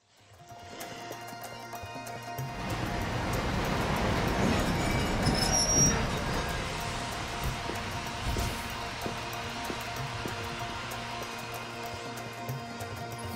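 A train in the video game Lightning Returns: Final Fantasy XIII rumbles in after a quiet start, its wheels squealing and rattling steadily as it passes nearby, with no talk over it.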